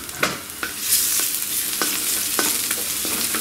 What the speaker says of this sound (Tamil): ஒரு 4-5 பூண்டு எடுத்து இந்த மாதிரி சின்ன சின்னதாக கட் பண்ணிட்டு போடுங்க